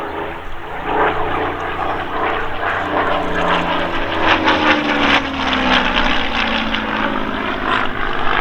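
A Supermarine Spitfire Mk V in United States Army Air Force markings of the 309th Fighter Squadron flies an airshow display at Old Buckenham, its piston engine roaring loud and steady with a rising and falling pitch as it passes.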